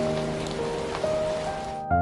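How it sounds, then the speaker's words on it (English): Rain falling on the Routeburn Track in New Zealand, a steady close hiss of drops spread evenly throughout, with a faint tonal hum underneath. "The rain came eventually."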